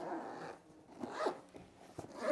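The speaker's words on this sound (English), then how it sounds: "Zip it all the way up." A zipper closes the carrying case of a Lectron portable EV charger, drawn in several short pulls close up, each with a rasping burst, with no talking.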